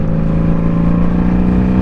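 A motorcycle engine gives a short throttle blip while downshifting without the clutch, a steady close engine drone with a strong low hum throughout.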